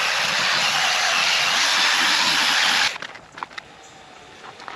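A buffing pad polisher runs on car paint with a loud, steady whirring drone close by, then cuts off abruptly, leaving faint handling noises.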